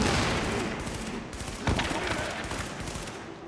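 SMG fire in Tom Clancy's The Division, a dense rattling stream of rapid shots mixed with a loud impact, continuous and harsh over a few seconds.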